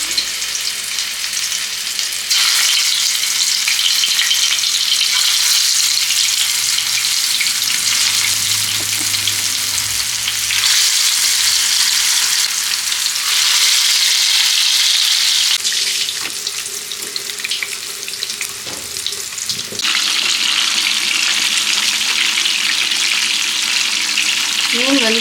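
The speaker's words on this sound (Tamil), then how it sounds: "ஒரு 3/4 பாகம் நல்லா ஃப்ரை பண்ணி எடுத்துக்கலாம்" Fish pieces shallow-frying in a hot pan for fish biryani, a loud continuous close sizzle with swelling bursts of hiss that ease slightly toward the end, no talking.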